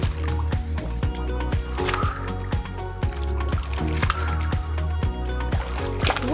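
Pool water sloshes and splashes in a steady rhythm as arms press down during an aquatic cross-training workout, with repeated surges of churning water and faint music or voice underneath.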